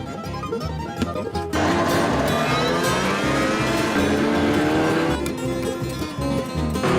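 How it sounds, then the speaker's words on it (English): A snowmobile engine roars loud and close during a ride in Iceland, a steady droning whine with shifting pitch and brief dips, with no talk over it. "I stole Scott's snowmobile"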